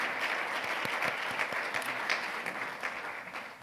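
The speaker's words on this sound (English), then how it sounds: "we want to give a hand of applause to these leaders" Steady applause from an audience, many hands clapping together for a few seconds at moderate distance, slowly tapering off.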